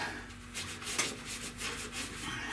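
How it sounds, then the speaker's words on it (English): A DA sander with 320 grit paper scuffs the flat surfaces of a 1970 Buick Wildcat door jamb, making a close, continuous abrasive rubbing hiss that pulses slightly, with no talk. "I just like to DA it with the 320, the flatter surfaces"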